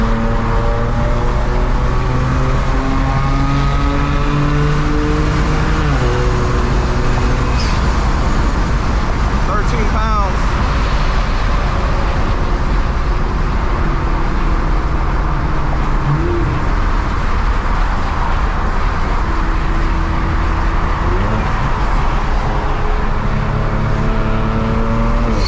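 A tuned Stage 4 BMW 335i rated over 600 hp drones loudly and steadily while cruising on a highway, its pitch stepping with gear changes over constant road and wind noise.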